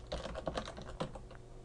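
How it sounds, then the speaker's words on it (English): Rapid clicking keystrokes on a computer keyboard, close and fairly steady, with several crisp taps in quick succession and one sharper press near the middle. "So you can see, I will type here"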